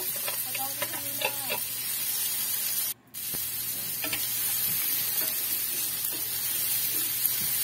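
Carrots go into a hot pan for a budget vegetable-and-egg dish and are stirred, giving a steady loud sizzle with scraping stirs and a brief drop-out midway.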